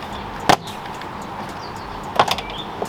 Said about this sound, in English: Now it's as simple as just pulling on the door